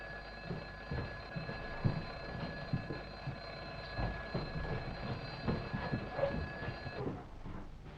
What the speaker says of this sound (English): Warning bells sound throughout the building.